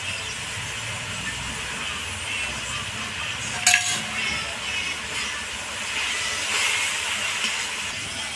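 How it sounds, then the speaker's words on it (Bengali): Grated garlic hits hot oil in a pan while cooking tel potol, producing a steady, even sizzling hiss throughout with one brief metallic clink partway through. "আমি রসুনটা দিয়ে দিই।"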